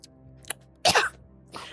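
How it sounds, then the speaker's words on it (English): A couple of short, harsh coughs, one louder burst in the middle, close to the microphone. "I got a cough"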